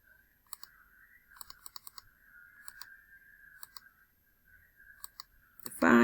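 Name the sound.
computer mouse clicking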